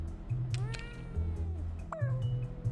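Cat meowing in a video game, a few short rising and falling meows over a steady low game music loop, no one talking.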